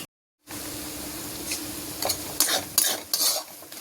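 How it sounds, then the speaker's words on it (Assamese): Semolina frying and being stirred in butter while making pumpkin halwa: a steady close sizzle hiss, with scraping stirring strokes growing louder and more frequent toward the end. "চুজিখিনি ধুনীয়াকৈ ৰঙা হোৱালৈকে ভাজি ল'ম।"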